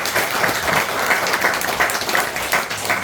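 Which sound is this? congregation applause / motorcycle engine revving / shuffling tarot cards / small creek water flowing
congregation applause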